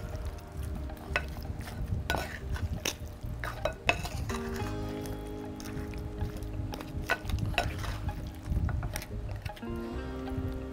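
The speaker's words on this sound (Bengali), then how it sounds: "আমরা এটাকে ভালো করে এখন মিশিয়ে 30 মিনিটের জন্য ম্যারিনেট করে রাখব" Beef marinade being stirred and mixed in a bowl, giving soft, continuous squelching and scraping with occasional light clinks of utensil against the dish, heard close and fairly quiet without talk.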